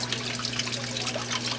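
Water flows evenly over the cone of a fine gold recovery bowl, a steady close trickle and rush with a low hum from the pump running under it.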